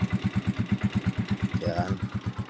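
A Rusi 150 motorcycle engine idles up close, its steady low thumping pulses repeating evenly throughout, with a brief faint squeal partway through.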